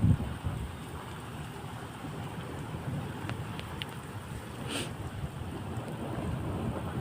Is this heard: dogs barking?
no